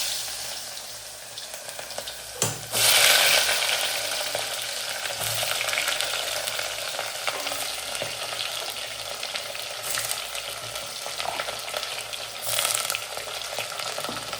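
Potato chips for a fasting-day snack frying in hot oil in a pan, stirred now and then: a steady, loud sizzle throughout with a few sharper bursts of crackle, no voices.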